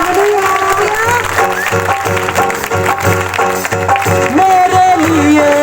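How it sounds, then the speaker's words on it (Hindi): An Easter church congregation claps hard and rhythmically along with loud music and singing, keeping a steady beat throughout. "ताली बजाओ जोर से"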